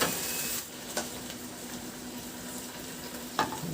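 Pork steak fries in a hot pan with a continuous, even sizzle, broken by a couple of brief sharp spatters or utensil clicks, and no talk over it.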